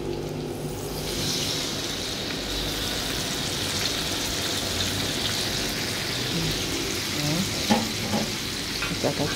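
Blended fresh red chili sizzles and fries steadily in a pan for Minang-style sambal, a loud continuous crackle with occasional stirring scrapes and no talking.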